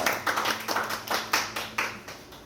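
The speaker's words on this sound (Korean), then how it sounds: "우리 하나님께 영광의 박수 올려드리겠습니다" A church congregation claps in unison, about ten sharp, evenly spaced beats in a steady rhythm over two and a half seconds, close and moderately loud.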